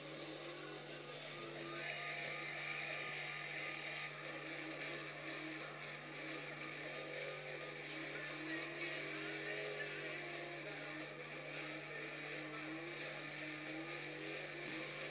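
Motorcycle and car stunt footage plays through the small speakers of a Motorola Xoom 2 Media Edition tablet, giving continuous engine roar and revving, thin and fairly faint, with a steady electrical hum underneath.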